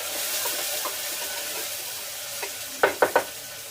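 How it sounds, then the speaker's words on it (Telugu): Onions fry in a pan for a vegetable curry, giving a soft continuous sizzle, then three quick, sharp scrapes and knocks of a spoon stirring them near the end. "ఉల్లిపాయలు కొంచెం వేగిన తర్వాత"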